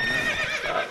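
Geralt's horse Roach in The Witcher 3 lets out a single short, close whinny with a wavering, high-pitched tone, heard alone.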